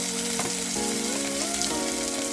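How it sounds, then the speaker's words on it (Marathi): Chopped tomatoes dropped into garlic frying in a pan for Malvani tomato saar send up a loud, dense, continuous sizzle close by, with a few tonal squeaks and a stirring scrape. "लसूण थोडंसं लालसर झालं ना, याच्यात आपण 2 छोटेसे कापलेले टोमॅटो घालूया"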